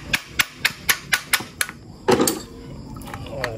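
A run of sharp, evenly spaced hammer taps on a servo part, about seven in quick succession, then a heavier knock followed by a fading ring.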